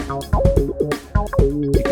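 Music played through the SidePass bass-narrowing plugin with a high pass on the side channel, punchy drum hits and a bouncing bass line with tonal synth notes, loud and close with no talk.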